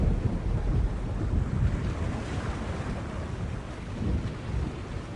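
A thunderstorm at sea in the adventure game The Longest Journey: a constant, heavy roar of wind, rain and waves that swells with low rumbles near the start and again toward the end.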